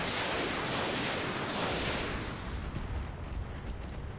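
A mech in the video game Roguetech fires MRM missiles, a loud, dense roar of launches and blasts that holds steady, then thins into scattered rumbling impacts.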